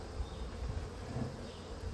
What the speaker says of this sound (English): A lot more bees in this one